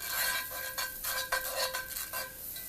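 Food sautéing in a hot pan while a utensil stirs and clinks against the metal, giving a soft sizzle broken by several sharp scrapes and taps, with no talking.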